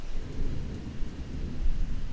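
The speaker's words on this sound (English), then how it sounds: "Oh, cool, it's thundering." Deep, continuous rumble of thunder with rain, loud and close, rolling steadily without any voices over it.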